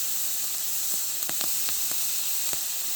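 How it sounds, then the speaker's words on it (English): Chicken stock poured over precooked rice on a hot griddle at a fall campsite steams and hisses in a steady broad wash, broken by a few sharp crackling pops, close and alone. "then I have some chicken stock we'll pour on there and kind of steam it"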